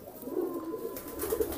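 A pigeon coos in soft, low, throaty phrases, close and fairly quiet, with a faint hiss of background noise.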